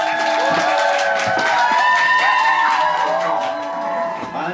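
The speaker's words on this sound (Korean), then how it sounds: "큰 박수로 맞아주세요" An audience greets a guest singer with applause and cheering, a dense crowd roar over lingering music that stays full before tapering slightly near the end.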